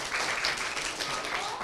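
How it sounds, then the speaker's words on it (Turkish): A children's audience applauds at an indoor kids' game show, a dense, steady patter of small hands clapping close by, with excited young voices mixed in throughout. "O zaman bir kıyım alkış alalım sizden."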